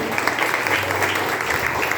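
A church congregation at a Sunday service applauds in a loud, dense burst of steady clapping, heard close and without talk over it.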